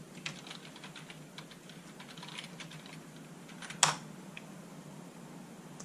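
Computer keyboard typing as an email and password are entered, a quiet, steady run of light key clicks with one sharper, louder tap near the end and a faint fan-like background hum; no talking.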